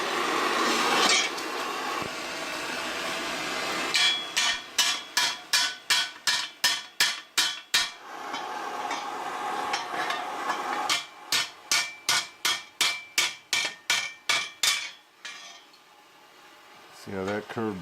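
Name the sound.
hammer smacking metal on an anvil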